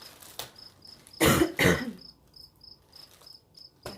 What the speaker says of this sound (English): I just had a major coughing thing.